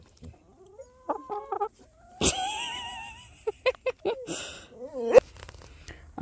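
Hens cluck and squawk close by in short, uneven bursts, with a few sharper calls breaking through and occasional quiet sounds from people between them.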